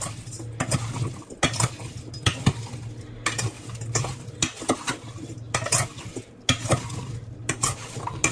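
A spoon works through sliced apples mixed with sugar, vanilla and black vinegar for an apple crumble. It scrapes and clinks against the bowl in steady, repeated strokes, close and fairly loud.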